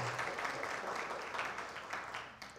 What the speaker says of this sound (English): you deserve your own round of applause